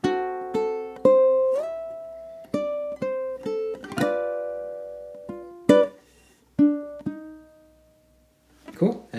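A ukulele picks out the bouncy, syncopated melody of Scott Joplin's ragtime piece The Entertainer, bright ringing notes and short pauses, close and clear, with no voices.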